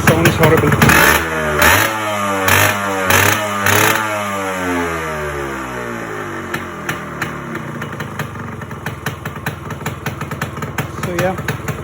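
A Yamaha RX 100 two-stroke motorcycle engine with its silencer knocking against the frame revs hard in several blipping bursts, then drops to a rough, uneven idle, with a person talking over it.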